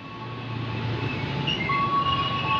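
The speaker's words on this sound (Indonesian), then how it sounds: "ini soalnya keretanya ada 8 ini, Brancis" Commuter train of eight cars at Sudirman station, a steady loud rumble of rolling stock with a sustained high squeal or whine joining partway through, busy platform ambience around it.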